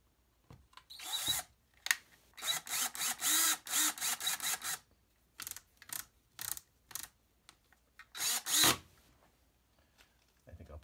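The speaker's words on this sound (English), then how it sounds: "Let me throw a screw in there just to make sure this guy doesn't slide anywhere." A power drill drives a screw while a part is mounted inside a Panasonic 65-inch TV, with several short whirring bursts separated by pauses and small handling clicks.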